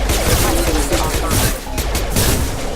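Rapid gunfire in the video game Mass Effect 2, dense overlapping shots and impacts sounding continuously at close range for nearly three seconds, with a brief dip midway before the firing picks up again.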